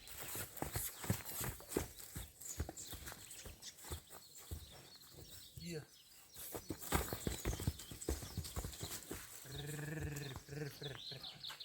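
A stallion's hooves clip-clop in quick, irregular strikes on hard ground, close and fairly loud, with a horse's snort or whinny near the end and light background noise.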